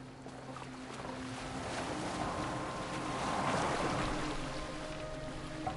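Steady rushing wash of water and wind around a boat moving through a video game, a continuous broad roar with a faint low engine-like hum underneath, no voices.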